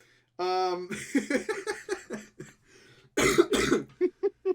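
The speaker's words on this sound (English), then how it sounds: "it's the worst that I have a cough too" A person coughs in a few short harsh bursts among stretches of casual conversation from nearby voices.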